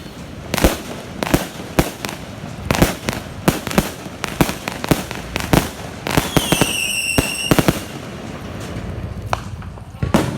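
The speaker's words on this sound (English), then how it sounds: "Tonight is Chinese New Year and there's a lot of fireworks going on here at the moment" Fireworks for Chinese New Year on Malaysia's east coast: a steady run of loud, sharp bangs and crackling bursts, some close and some farther off, with rising whistles from rockets midway through.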